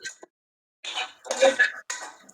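Metal spoon stirring a pot of cooked dal for palak parippu curry and then being lifted out, a few short clinking scrapes in bursts separated by a pause, close and fairly quiet with no talk.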